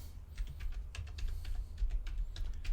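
Steady rapid typing on a new computer keyboard, close and fairly quiet, with irregular clicking keystrokes and no talking.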